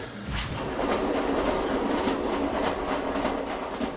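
A train rolls along a Carpathian mountain railway built by Italians, a steady close rumble with rhythmic wheel clatter over the rails that carries on throughout without any voices.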